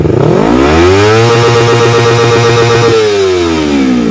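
A motorcycle engine, stock before an ECU remap, starts and revs hard, its whining pitch climbing, holding high for a moment, then falling back, loud and close with no talk.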